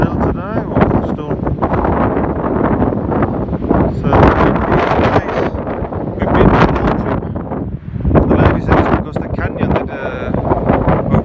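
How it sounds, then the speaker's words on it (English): Heavy, constant wind buffets the microphone in a loud, roaring blast with gusty surges on a road to Issyk Kul, Kyrgyzstan, and voices are faintly audible beneath it. "the windiest day ever"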